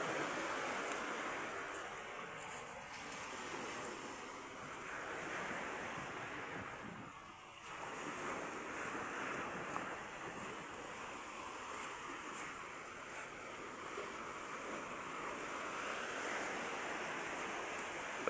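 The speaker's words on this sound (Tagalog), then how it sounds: "Galit na naman yung dagat." Rough surf crashes continuously, a broad roaring wash with gusty wind buffeting the microphone throughout.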